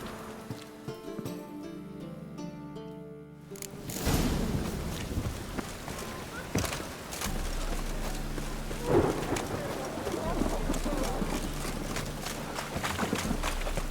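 Rain falls in The Witcher 3 as a dense, steady patter with occasional low rumbles, starting after a few seconds of calmer game music and ambience.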